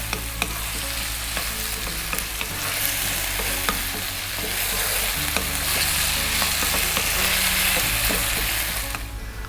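Potatoes fry over high heat in a pan for a spicy aloo fry, a loud continuous sizzle punctuated by repeated tossing and scraping clatters, close up, with no talking.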